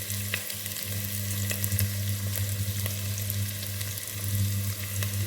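Onions and green chillies sauté in a hot pan with a steady, close sizzle, joined by a low constant hum and occasional scrapes of stirring.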